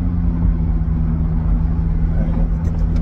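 Steady, loud roar of a car driving on the road with a window open, a constant rumble of wind and tyre noise with a low hum running through it.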